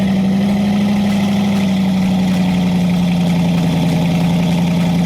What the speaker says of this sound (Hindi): इसका रियर पार्ट काफी इंटरेस्टिंग है, जिसमें आपको सेम बोलीड वाला क्वाड एग्जॉस्ट लेआउट मिलता है